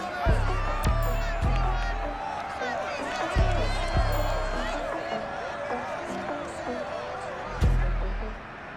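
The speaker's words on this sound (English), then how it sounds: "This crowd, as we've come to expect in recent years, as loud as any in the NFL" Stadium crowd at Lumen Field in Seattle during a Madden NFL 22 game, Titans against Seahawks, a steady loud roar of many voices with sharp thumping hits scattered through it.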